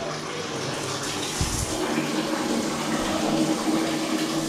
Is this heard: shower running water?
yes